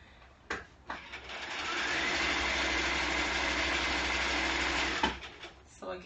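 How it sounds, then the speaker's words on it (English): A sewing machine stitching around a coat lining runs in one steady, loud whirring burst of several seconds, framed by brief clicks and short starts before and after. "So again, I'm just sewing this all the way around."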